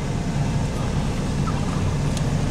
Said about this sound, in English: There's turkeys gobbling behind us.